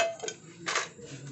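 Dishes, cooking pots and glasses being washed in a kitchen while pork sinigang boils, giving soft clinks and scrapes with a brief louder rinse or clatter in the middle, close and moderately loud.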